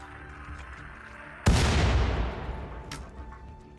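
A mortar shell launches in Rimworld with a single sudden, loud boom that rolls off into a fading rumble over a couple of seconds, heard over quiet background hum.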